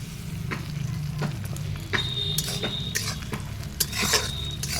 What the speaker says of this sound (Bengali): টমেটোটা দিয়ে আর কিছুক্ষণ ভাজবো।